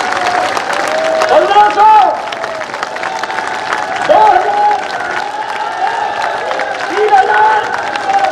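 Crowd applause and cheering at a rally in Gwalior, swelling in waves beneath a loud voice counting numbers over a public address system.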